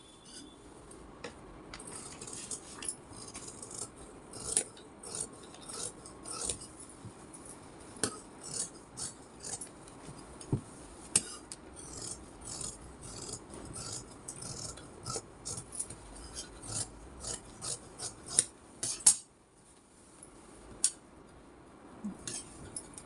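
Scissors cut through blouse fabric at a tailoring table in a long run of quiet, irregular snips and rasping slides, with small clicks scattered throughout.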